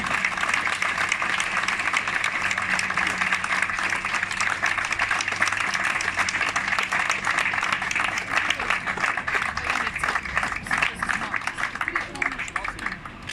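Applause fills the air at the official handover of a T-2 ambulance motorcycle to the Ljubljana ambulance station, steady and dense for over thirteen seconds, with talk underneath.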